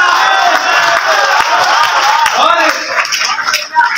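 An audience at a Hindi poetry gathering in Gonda claps loudly and continuously, a dense wash of applause with some crowd noise mixed in.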